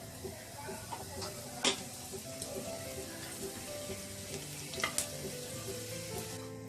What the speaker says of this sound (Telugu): ఆయిల్ వేడైన తర్వాత జీలకర్ర వేసుకొని వేయించుకోవాలి